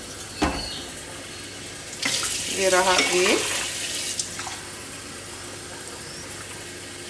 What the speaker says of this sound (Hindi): और इसमें अब हमने 2 कप पानी डालना है।